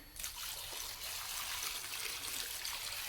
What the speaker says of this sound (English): Decided I'm going to throw a little more water in there.